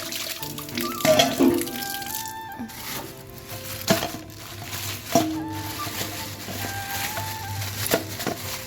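Two cut tilapia fish being washed under running water from a tap, with splashing, patter and knocks of the pieces and utensils against a metal vessel, close and fairly loud.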